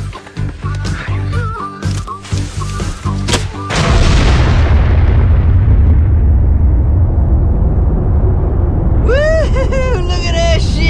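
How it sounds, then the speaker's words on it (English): A gas bucket explodes after being hit by fireballs in a movie scene: sharp pops and bangs come first, then a loud, sustained roaring blast that rumbles on for several seconds, with a voice at the end. "Yeah, jam that in the gas bucket. Yeah. We'll shoot fireballs at it."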